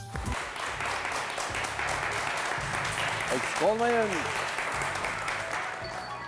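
A Turkish television word-game studio audience applauds in a steady, sustained wash of clapping, with a voice speaking briefly over it.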